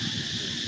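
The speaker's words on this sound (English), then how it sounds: "Are those locusts in the background? Those are cicadas." Cicadas droning in Siem Reap, Cambodia, a steady, dense high-pitched buzz that fills the whole moment without a break, moderately loud and unaccompanied by any talk.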